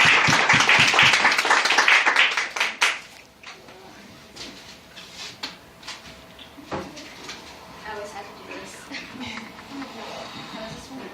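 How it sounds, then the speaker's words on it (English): A poetry slam audience applauds for the next poet. The clapping is brisk and fairly loud for about three seconds, then drops to a few scattered claps and light room noise with faint murmuring. "Let's give her a nice round of applause"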